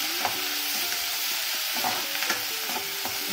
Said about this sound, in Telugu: నూనె బాగా కాలింటుంది కదా, ఎగురుతుంది మిందకి.